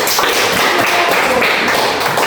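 A group claps their hands in steady, dense applause during an Indonesian teacher-training class session, a continuous burst of claps lasting a couple of seconds with no talking.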